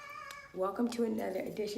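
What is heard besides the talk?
cat meowing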